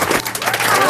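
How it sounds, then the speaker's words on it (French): Studio audience applauding and cheering on a French radio talk show, a dense steady wash of clapping with crowd noise filling the whole moment. "Je vous demande d'applaudir, d'acclamer pour son année passée"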